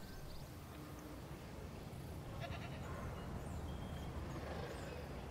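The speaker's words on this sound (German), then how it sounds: "Da ist die Ziege!" A goat bleats in the Jurassic World Evolution video game, a few short calls over a steady low rumble of game ambience and engine-like noise.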